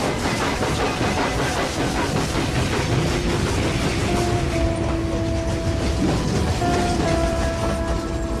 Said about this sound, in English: The train leaves in 10 minutes.